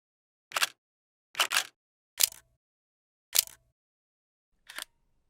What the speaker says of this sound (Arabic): وهو صوت الشطر بتاع الكاميرا